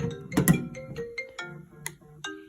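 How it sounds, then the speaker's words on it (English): An incoming phone call ringtone from a student electrical-engineering project setup plays as a short melodic electronic ring, with several tonal notes and a brighter burst near the start, fairly close and alone. "Here we have our phone call"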